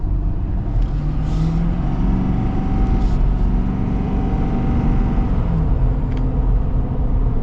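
A Shelby Super Baja diesel Raptor pulls hard under acceleration, its deep continuous engine rumble and road roar loud and steady from inside the cab.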